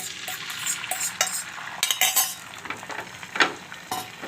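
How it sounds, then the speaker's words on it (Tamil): Egg poured into oil on a hot tawa for a bread omelette, a light sizzle with scraping stirs and utensil clinks against the pan, close and intermittent, no talking. "இப்போ கொஞ்சம் எண்ணெய் ஊற்றிக்கோங்க. அதுலேயே முட்டையை ஊற்றி"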